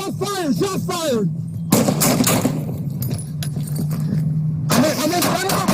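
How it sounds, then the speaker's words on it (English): Gunfire rings out during a police confrontation near a playground: a few sharp, loud cracks burst in amid shouted commands and a sustained siren-like tone. "Shots fired!"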